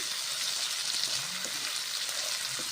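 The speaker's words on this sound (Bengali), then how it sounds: "কাজু বাদাম পেঁয়াজ মশলা ভেজে নিচ্ছি" Cashews, onion and spices fry in a pan as they are stirred, making a dense, even hiss of sizzling oil with only faint movement beneath it, and no talking.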